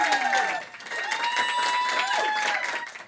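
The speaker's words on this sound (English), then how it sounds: "Round of applause for the venue." Audience applause and cheering for a Melbourne live venue, Creatures of Habit Bar & Bandroom, a dense sustained clapping from a crowd with some whistles and shouts mixed in.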